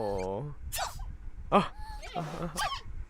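A panda sneezing in the video game Minecraft, a few short squeaky sneeze bursts in quick succession, with a person talking alongside.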